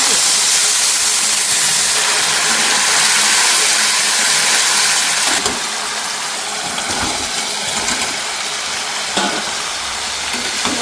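Sauce poured into a pan of frying garlic and curry leaves for restaurant-style dragon chicken, giving a loud, steady hiss and sizzle that settles slightly after about five seconds, with faint stirring clatter.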